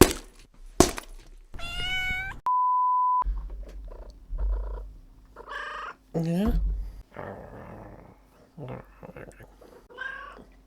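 A house cat meows repeatedly, loud and close, with rising wavering cries between pauses, while a person speaks briefly in between and a short electronic beep sounds once.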